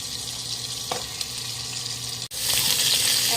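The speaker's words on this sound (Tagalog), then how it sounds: "And after, iprito na rin natin yung ating hotdog" Ham and hotdog sizzling in a frying pan for Filipino-style spaghetti, a steady close crackling hiss with a brief clatter midway before the sizzle swells louder.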